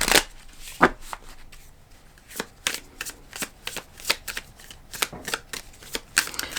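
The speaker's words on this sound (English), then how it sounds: "I'm going to just pull one more card from the Animal Apothecary deck." Cards from an Animal Apothecary oracle deck being shuffled by hand, a run of soft riffling flutters and taps at irregular intervals, close and fairly quiet with no talking.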